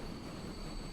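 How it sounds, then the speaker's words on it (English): A train rolling along rails in Transport Fever 2, a faint, steady rumble with a thin high whine over it, brief and without voices. "This train could speed up any time now."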